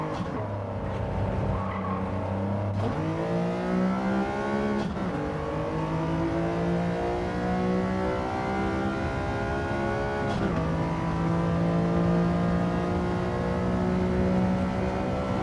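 Race cars lapping in Gran Turismo 7, including a group car on racing tyres: loud engines with rising revs and sharp gear changes, a few quick upshifts over a sustained close-up drone.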